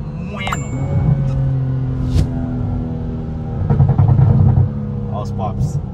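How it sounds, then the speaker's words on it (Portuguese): Powerful turbocharged car in a street race, engine droning close with crackling exhaust pops in bursts while accelerating, as a voice talks over it. "Olha os pops."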